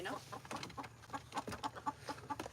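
Backyard chickens, hens only with no rooster, cluck in a quick, irregular series of soft bursts, faint and steady, with low background noise.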